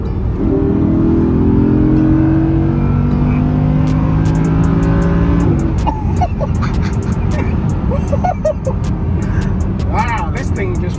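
A Ford F-150 accelerates hard, its engine revving and rising in pitch for several seconds before settling into a loud steady drone. People talk and exclaim over the engine noise inside the cab.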